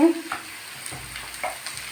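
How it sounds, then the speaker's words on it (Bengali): Grated beetroot hitting hot oil and frying, a low crackling sizzle with a few soft stirring knocks spread across the moment, fairly quiet and with no talk. "এবার আমি গ্রেড করে রাখা বিটটা দিয়ে দিচ্ছি"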